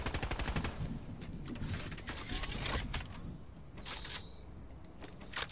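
Rapid bursts of automatic gunfire in a VR battle royale game, dense and continuous through most of the stretch, with a brief lull before another volley.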